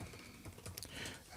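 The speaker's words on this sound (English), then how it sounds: "I'm going to start typing some names" Typing on a computer keyboard while entering names into an Excel spreadsheet, a quick run of close, clicky keystrokes in an uneven rhythm with a few firmer taps.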